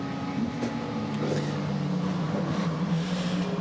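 A Porsche GT race car, number 92, in an ADAC GT Masters race at the Hockenheimring: a steady, sustained engine drone with tonal harmonics at moderate distance and no voices over it.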